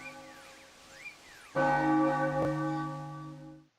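A large church-style bell in Super Mario Odyssey's Moon Kingdom wedding hall strikes once loudly and rings out, its sustained metallic tones lingering alone after a faint sliding melody, with a second lighter hit partway through.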